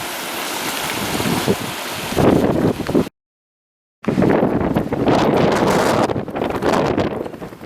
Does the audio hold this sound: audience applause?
no